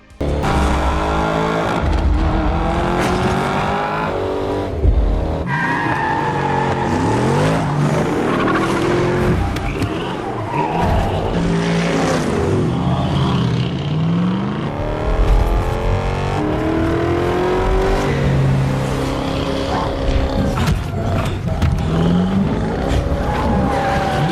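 Race cars in the Need for Speed (2014) video game roar and rev hard while tires squeal and skid again and again, loud and continuous with engine pitch climbing and dropping.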